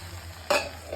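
Okra (ladies finger) sautéing and being stirred in a pan: a soft steady sizzle broken by two quick, sharp stirring scrapes, close by with no talk.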